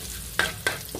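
Garlic fries in a pan as it turns brown, a soft steady sizzle broken by two or three crisp stirring scrapes.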